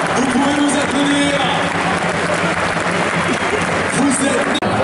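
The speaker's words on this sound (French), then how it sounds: "Vous pouvez nous applaudir." A rugby stadium crowd of nearly sixteen thousand at Gerland, during a LOU versus La Rochelle match, applauds steadily and loudly from all around while an announcer talks over the clapping.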